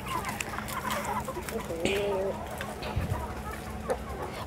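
Chickens cluck and call close by among acerola branches, with scattered short clucks over outdoor background noise.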